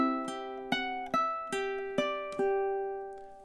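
A solo ukulele picks measures nine and ten of a song, six or seven clear plucked notes in an even rhythm, each ringing out close and bright with no voices.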